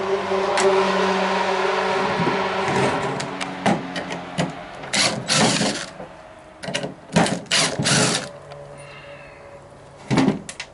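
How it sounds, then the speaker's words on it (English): Temporary screws being backed out of a wooden porch swing, with a steady mechanical drone from about 5 seconds giving way to bursts of drill whirring, clicks and wood knocks. "now we're going to take and remove our temporary screws and put our bolts in"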